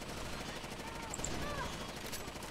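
Rapid gunfire from Rainbow Six Vegas 2 rattles in quick bursts, fairly faint and mixed into game ambience with no voices over it.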